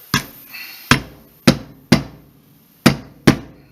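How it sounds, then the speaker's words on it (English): Six sharp, ringing knocks of a rubber hammer on a metal part of a Hi-Point JHP pistol during reassembly, spaced irregularly about half a second apart, each decaying quickly. No talking. "just like that with a rubber hammer."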